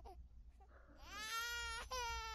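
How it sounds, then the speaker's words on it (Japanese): Baby crying sound effect in a Japanese ghost folktale narration, a wailing infant cry rising after faint murmurs, then a sustained loud harmonic wail with a brief break and resumption. "二人は赤子の泣き声に耳を澄ませ、その泣き声を注意深く探り"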